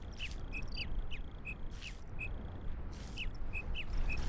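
A bird in the video game Baby Steps chirps repeatedly in a quick regular pattern, short bright calls spaced about every half second over a constant low outdoor ambience, moderately loud with no voices.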